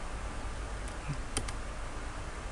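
A few quick keystrokes are typed on a computer keyboard while entering a command, faint clicks cutting through a steady background hiss with no one talking.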